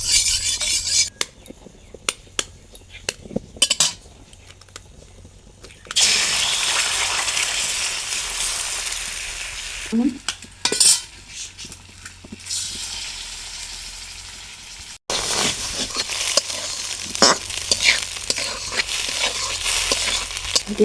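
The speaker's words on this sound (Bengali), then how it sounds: "ডিমটা ভাজার জন্য" An egg fries in white oil with a loud, broad sizzle that comes in long stretches. Gaps between them are filled with utensil clinks and scraping against the pan.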